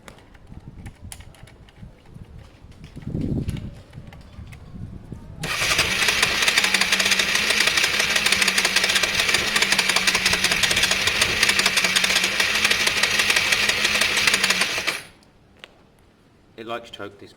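A Honda Varadero 125 motorcycle engine, on choke after carburettor installation, catches after a few brief noises and runs loudly at a steady, rough idle for about nine seconds before cutting out.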